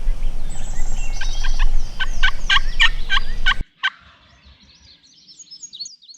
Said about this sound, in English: one morning we ended up completely surrounded by gobbling toms